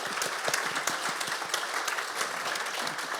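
An audience at a literary reading claps for Megan Nolan, a brief, dense burst of applause with individual hand claps standing out, steady and moderately loud throughout.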